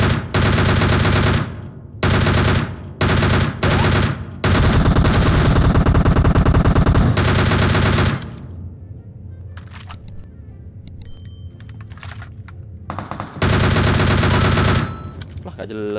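Rapid automatic gunfire in PUBG Mobile, with several loud bursts of shots, a long sustained volley, then quieter game sounds before another heavy burst, all close and dominant.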